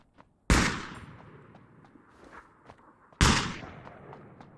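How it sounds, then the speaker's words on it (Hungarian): Gunfire in the shooter game ROE: two loud, sharp shots about two and a half seconds apart. Each one cracks hard and fades into a long echoing tail, with faint scattered pops in between and no speech. "Erről is jön a lövés, North és East között."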